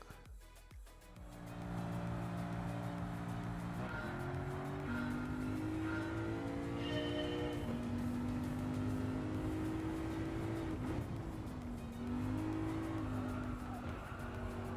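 Race car in Gran Turismo 7 roars steadily under hard driving, its engine pitch rising and falling through gear changes with tire squeal and skidding, loud and continuous for most of the stretch.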